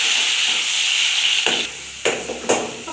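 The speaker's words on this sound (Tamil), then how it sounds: "தக்காளி போட்டுக்கலாங்க. நல்லா வதக்கி விட்டுக்கலாங்க." Onions and tomatoes sautéing in a pan give a steady close sizzle and hiss, broken by a few stirring scrapes and knocks near the end.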